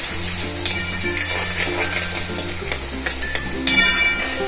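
Finely chopped onions fry in a pan with a steady, bright sizzle, broken by occasional stirring scrapes and light clinks, and a faint tonal background hum runs underneath.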